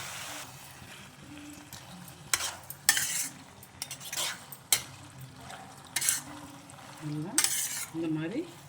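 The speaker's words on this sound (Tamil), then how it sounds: "இந்த மாதிரி வதக்கி விட்டுடணும்." Chicken sizzling and being stirred in a pan for a village-style curry, with intermittent scraping of the spoon against the pan and soft frying hiss throughout, fairly quiet and close.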